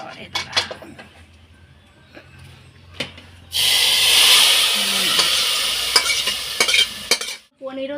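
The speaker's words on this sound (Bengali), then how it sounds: "এখন আমি ফোড়নটা ঢেলে দিচ্ছি" Hot spice tempering poured into Bengali gobindobhog khichuri, a loud sudden sizzle that bursts in after some quieter pot clinks and stirring, holds strongly for several seconds, then cuts off near the end.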